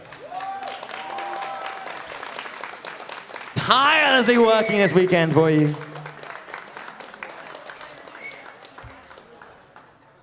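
An esports grand finals audience at a VR LAN event in Amsterdam bursts into loud applause and cheering for volunteers and casters, swelling for a couple of seconds before fading back under an announcer's amplified voice.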